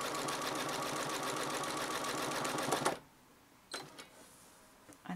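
A sewing machine doing free machine embroidery on a fabric postcard runs in a steady, close whir for about three seconds, then stops, followed by a few faint handling clicks.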